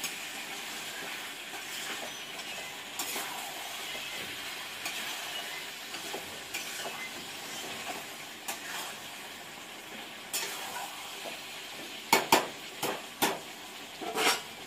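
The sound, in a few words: chicken cooking with spices in a covered pan on low flame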